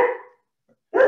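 A puppy gives two close, loud barks, one at the start that trails off and another after a short silence.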